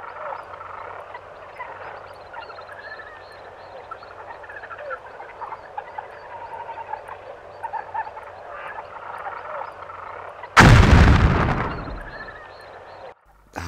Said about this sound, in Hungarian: A pálya végén egy igen költséghatékony, hogy nem mondjam, hitvány kapu felrobbantást láthatunk.